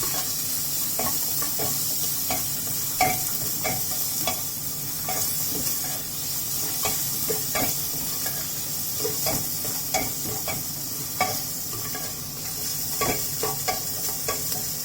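Sliced onions fry and sizzle steadily in a pan for chicken biryani, a continuous bright hiss broken by frequent stirring scrapes and clicks, close and alone without talk.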